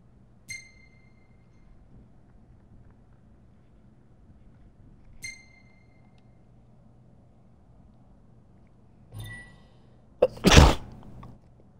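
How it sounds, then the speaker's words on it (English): A single sharp sneeze from a character in Final Fantasy 15, a loud burst near the end following quiet game ambience and a couple of soft chime tones earlier. "That's a weird sneeze."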